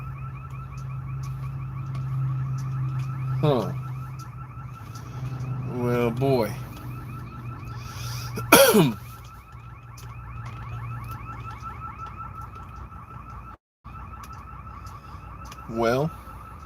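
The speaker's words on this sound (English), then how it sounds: "I'm hearing an alarm though. Man, hopefully it's a car alarm." A car alarm wails and warbles at a distance with repeating electronic tones, while someone briefly says a few words nearby.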